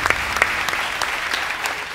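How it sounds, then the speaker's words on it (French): A large crowd applauds the players at a gaming tournament final: dense, loud, continuous clapping with sharper individual claps standing out near the front, and no speech on top. "Un maximum d'applaudissements pour toutes les personnes ici."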